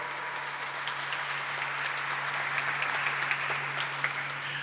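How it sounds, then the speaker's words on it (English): Guests at the listing ceremony of P N Gadgil Jewellers Limited clap in a sustained, even round of applause, moderately soft and steady throughout, with a low electrical hum underneath. "So a big round of applause for all of them."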